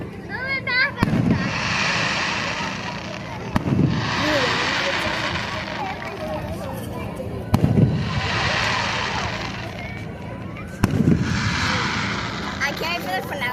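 Fireworks burst outdoors at a public display, four loud booming explosions spaced a few seconds apart with crackling tails, some sharp like gunshots, while people talk and cheer throughout.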